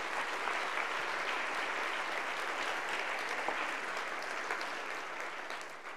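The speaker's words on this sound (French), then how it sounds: "je pense qu'ils méritent une petite main d'applaudissement." Audience members at a sustainable development forum give a warm round of applause, a dense, even clapping that holds steady and tapers slightly toward the end.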